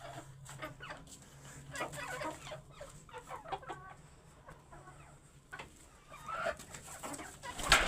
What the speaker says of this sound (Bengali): মুরগিগুলো সব সুস্থ আছে